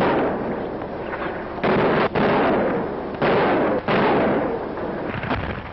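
Artillery guns firing on the approach to Saarbrücken near the German border in March 1945, heard as loud repeated booming blasts in a dense, rumbling, old-sounding newsreel recording.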